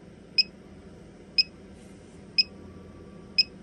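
An ALFFAA 1500W pure sine wave solar power inverter sounds its low battery alarm: four short, sharp electronic beeps spaced evenly about one second apart over a faint low hum.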